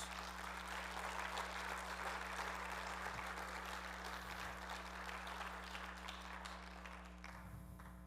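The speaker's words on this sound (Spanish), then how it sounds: "Denle un aplauso a Jesús." Church congregation applauding during a sermon, a sustained wash of clapping from a crowd over a constant low electrical hum, easing off slightly near the end.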